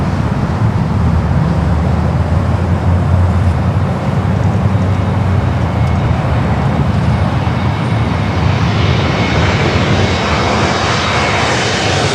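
A cargo plane, a passenger jet first delivered in December 1999 and later converted, passes at LAX airport with a loud, steady engine roar. The roar holds for the whole stretch and takes on a brighter, hissing edge toward the end.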